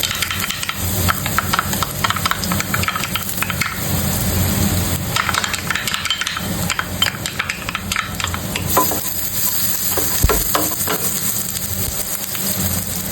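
Ginger frying in hot cooking oil in a pan for chicken curry, a continuous close hiss and sizzle with scraping stirs and clatter on top, loud and without speech.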